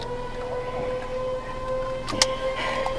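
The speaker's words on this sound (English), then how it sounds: "that is when the tornado sirens went off" Tornado warning sirens wail as a steady, sustained tone across Tornado Alley, heard from an RV under ambient rumble, with a brief louder clatter partway through.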